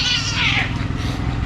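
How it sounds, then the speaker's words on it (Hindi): Cats fighting in Bandra, with a loud drawn-out yowling caterwaul rising and falling over steady low background rumble, close by and continuous. "बिल्ली लड़ाई भी चालू है।"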